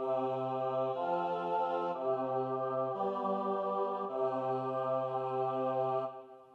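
Four voices sing sustained chords in harmony, shifting together to new chords roughly every second, steady and clear before fading at the end.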